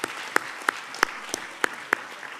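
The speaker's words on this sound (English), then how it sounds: "So if you would all give them a big round of applause." Sparse, faint claps from a small audience applauding the organizers of an evening flu vaccine forum, a handful of distinct hand claps spaced irregularly across a quiet room.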